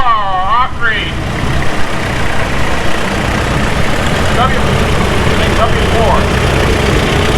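A vintage tractor engine idles at a steam thresher reunion show in Rollag, Minnesota, a steady loud rumble throughout with a voice talking over it and brief whistling tones early on.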